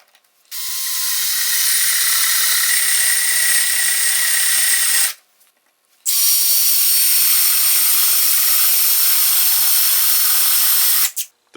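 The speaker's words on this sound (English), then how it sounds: "I'm now going to do a second test in low speed." Cordless drill at low speed boring a 7/8-inch paddle bit through hard maple, a steady, loud whirring drone running about four and a half seconds, a brief pause, then a second equally long continuous run.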